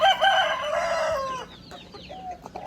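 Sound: young rooster crowing

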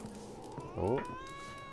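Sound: cat growling in video game The Witcher 3

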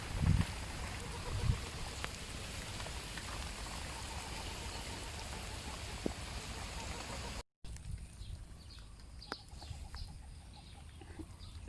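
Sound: rain falling

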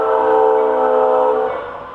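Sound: Florida East Coast Railway freight train 439 passing

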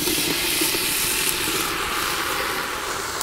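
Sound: vegetables frying in a Dutch oven

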